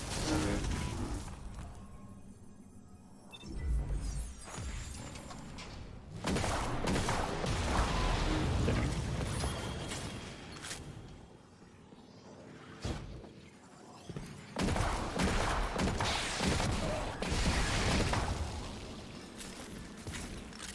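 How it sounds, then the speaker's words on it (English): A shotgun hand cannon fires repeatedly in Destiny 2, with bursts of blasts and impacts layered over dense, loud combat effects and mechanical noise. "I'm really starting to like this little shotgun hand cannon."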